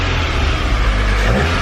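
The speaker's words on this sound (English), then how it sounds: "I'll leave her to cool up for like a minute and then we'll get some revs." A Volkswagen Golf R engine fitted with an induction kit runs loud and close, its throaty rumble rising and swelling as the revs climb.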